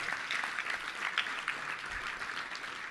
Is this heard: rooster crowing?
no